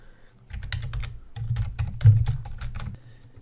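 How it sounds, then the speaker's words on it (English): Someone types on a computer keyboard in a nearby burst of quick, irregular key clicks, pausing briefly midway before continuing, with no talk. "So I'm going to start typing."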